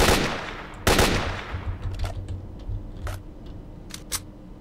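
Gunfire in the video game S.T.A.L.K.E.R.: Lost Alpha, a loud opening shot followed by a sharp crack near one second and several quieter scattered shots and clicks over a steady low game ambience.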